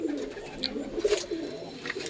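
Pigeons in a home breeding loft give soft, low, close coos in short repeated bursts. Faint fluttering and loft noise sit behind them.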